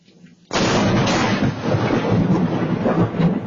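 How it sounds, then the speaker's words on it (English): Thunder from a lightning strike hitting a tree in Port St. Lucie, Florida: a sudden loud, close crack bursts in after brief quiet, then a heavy sustained rumble rolls on without pause to the end. "It struck a tree, burning it up, and the thunder was so strong it shattered 2 nearby windows."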